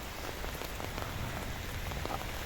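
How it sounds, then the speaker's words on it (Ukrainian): Hail falls hard over a garden with netting and vegetable beds, a dense, steady patter of stones drumming on surfaces nearby, with no talk. "Град, град кругом. Подивіться, сітки висять. Град прямо в сітках"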